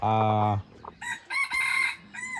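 Among Thai gamecocks, a rooster lets out one loud, close crow, and several short clucks and squawks from the flock follow in bursts.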